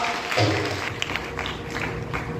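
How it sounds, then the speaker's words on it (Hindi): An audience at a satsang gathering in a hall claps together, a dense, even patter of many hands lasting the whole short stretch at moderate loudness. "एक बार ताली बजा दीजिए"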